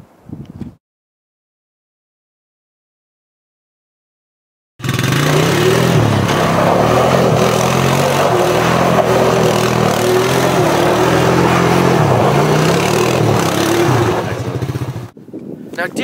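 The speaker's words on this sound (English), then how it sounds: "Braden was doing donuts on Mike's driveway" A vehicle doing donuts on an icy, snowy driveway, its engine droning loudly and steadily with rising and falling revs for about ten seconds after a silent gap, with brief voices at the start.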